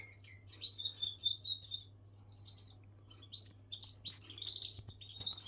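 A caged songbird delivers lively, high warbling phrases in repeated bursts with brief pauses, close to the listener over a faint steady hum.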